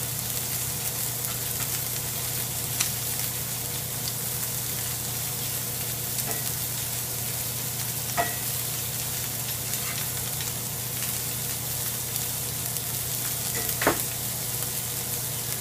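Green chile fries beside a ribeye steak in a buttery pan, giving a constant close sizzle with a few soft clicks and scrapes of stirring and flipping.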